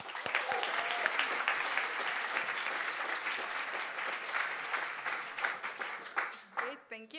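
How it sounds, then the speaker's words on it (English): Sustained audience applause fills a conference hall after a speaker on user research in gaming is introduced, loud and steady clapping that thins toward the end as scattered claps fade out. "So everyone clap for Oana."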